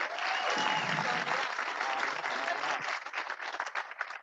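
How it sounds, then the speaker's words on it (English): An audience at a board of education meeting breaks into sustained applause that stays full for a few seconds, then thins into scattered claps as it tapers off; faint voices murmur underneath. "The applause is going to make me go over 2 minutes."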